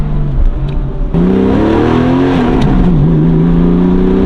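A Porsche 993 engine pulls steadily under acceleration while driving, its tone rising after a brief lift near the start and then holding a strong, continuous drone close to the listener.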